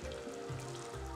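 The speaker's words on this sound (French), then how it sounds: "on va mouiller avec notre jus de cuisson des asperges" Asparagus risotto in a pan as asparagus cooking juice is poured in, giving a steady soft sizzle and bubbling hiss with a faint low hum, close and unbroken, no voices.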